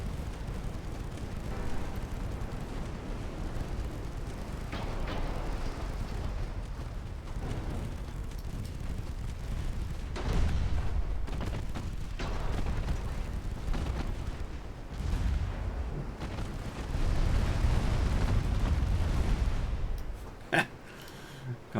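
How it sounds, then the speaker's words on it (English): Rapid, rumbling fire from 2-inch naval guns in the warship game Ultimate Admiral Dreadnoughts, a continuous low thudding barrage with heavier booms near the end, and a voice speaking faintly beneath it. "We do have 2-inch guns though."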